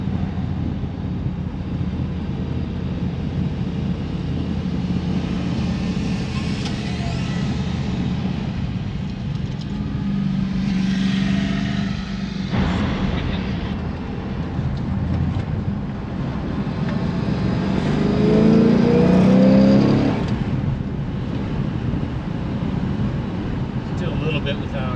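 A 1967 Plymouth Belvedere II, a B-body with a big-block V8, drives down the road with a steady low engine drone and wind rush, the engine swelling louder near the end as it pulls; people talk over it.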